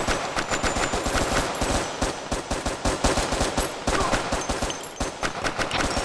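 Rapid gunfire from the VR shooter Crisis VRigade crackles nearly nonstop, with dense bursts of machine-gun shots and a few short gaps, loud and close throughout.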